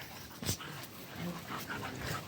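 Dogs romp close by beside a freshly poured concrete foundation slab, with panting, small yips and whimpering snuffles, scuffling sounds mixed in at a low, busy level.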